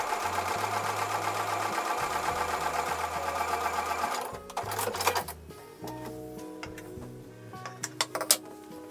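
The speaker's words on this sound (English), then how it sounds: "at the sewing machine, I'm going to sew 1/4 inch away from the drawn line on both sides of the drawn line" A sewing machine stitches a quilt block a quarter inch from a drawn line, running steadily and close for about four seconds before stopping, followed by scattered clicks and handling taps.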